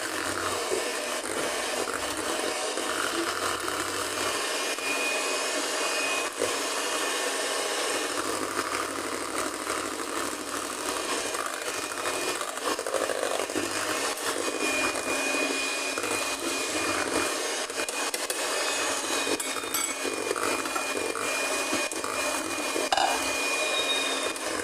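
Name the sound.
electric mixer mixing strawberry cheesecake filling ingredients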